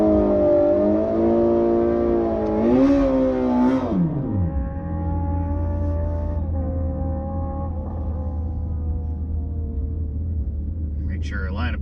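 Drag racing car engine at a street-race track, a loud steady roar with harmonic pitch rising around three seconds, then dropping and settling into a lower sustained rumble, close and continuous.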